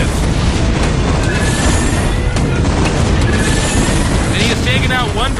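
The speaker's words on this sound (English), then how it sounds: "And he has taken out one dropship" Dropship blown apart in a StarCraft match, a dense roaring burst of explosion and crash noise that fills the whole stretch, with faint chirping unit effects near the end.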